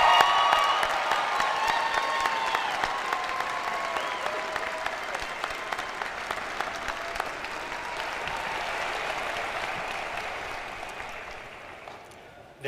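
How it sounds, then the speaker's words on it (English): Sustained applause from a convocation audience for graduates of a college of health and public service, dense clapping that fills the hall steadily for about twelve seconds before cutting off, with some faint voices mixed in. "Can we give them a round of applause for choosing lives of service?"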